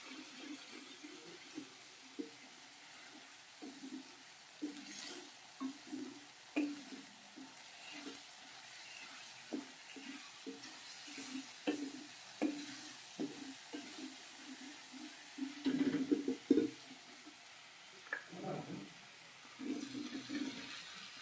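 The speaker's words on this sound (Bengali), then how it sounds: "হলুদ গুঁড়ো জিরে ধনে গুঁড়ো এবার ভালো করে ভেজে নিতে হবে" Turmeric, cumin and coriander powder are fried and stirred in a pan with water, producing a steady low bubbling sizzle broken by repeated soft scraping stirs that grow busier toward the end.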